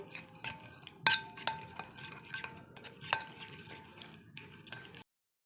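Chicken pieces for KFC-style popcorn chicken are mixed with ground pepper, cumin, coriander, soy sauce and tomato sauce in a bowl, giving soft wet squelches and repeated spoon clinks against the bowl, close and fairly quiet.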